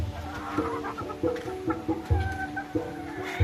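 Hens cluck repeatedly at close range, short throaty bursts in an uneven rhythm, with more birds murmuring in the background.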